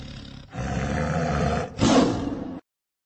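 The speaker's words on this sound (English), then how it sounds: "Tiger." A tiger lets out two deep, rumbling roars in quick succession, the second louder and rougher, close up and alone before stopping sharply.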